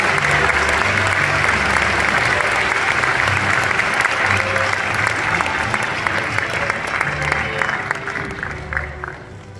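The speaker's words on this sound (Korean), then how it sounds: "큰 박수를 부탁드립니다." A large audience at a Korean university presidential inauguration service claps loudly for a development-fund donation, sustained thick applause that holds steady before easing off slightly at the close, with no talk.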